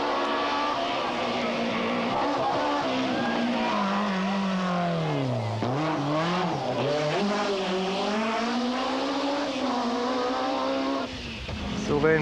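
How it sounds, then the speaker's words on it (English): An old-style BMW M3 rally car engine roars loud and close at a 1994 alpine rally stage, revs rising and dipping through gear changes with brief tire squeal, sustained almost continuously before easing near the end. "5th is Dominique de Meyer, driving his old-style BMW M3, and just listen to the sound it makes"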